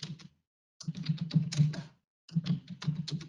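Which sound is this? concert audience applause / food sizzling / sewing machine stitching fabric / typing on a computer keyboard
typing on a computer keyboard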